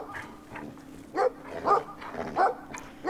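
A dog in the Brothers: A Tale of Two Sons game barks in a short series of four or five separate woofs, moderately close, over a quiet low background hum.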